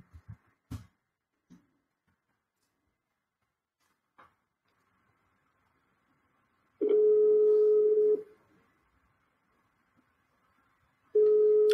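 Telephone call tones from a business phone system routing a call to an extension: a few faint clicks, then long steady beeping tones, one lasting over a second and another starting near the end, loud and clear with no talk.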